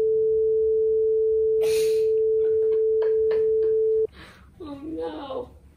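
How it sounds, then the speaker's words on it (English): A steady pure test tone plays for about four seconds through a homemade stereo headphone assembled from a KiwiCo Eureka Crate kit, with brief voices talking over it before it cuts off and talk continues. "and then a tone in your right ear"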